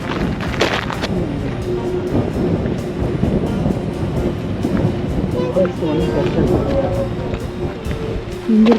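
Wind gusting across the clifftop at Mealt Falls on the Isle of Skye, a steady broad rushing roar with buffeting against the microphone, mixed with the distant wash of waterfall and sea throughout.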